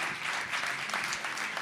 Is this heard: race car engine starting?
no